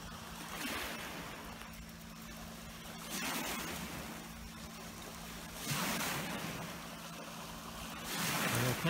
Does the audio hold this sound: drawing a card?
no